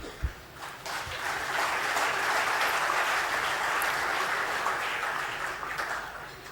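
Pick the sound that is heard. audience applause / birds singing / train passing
audience applause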